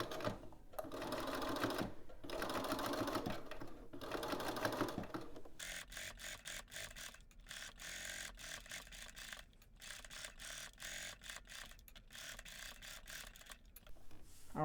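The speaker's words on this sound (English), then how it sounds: "let's head over to the machine and go ahead and stitch this at 5/8 of an inch seam allowance" A domestic sewing machine stitches a garment seam at a 5/8 inch allowance along existing piping stitches, running in steady bursts with brief pauses between them, close and alone.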